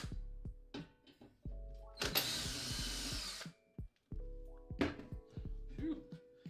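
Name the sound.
power drill drilling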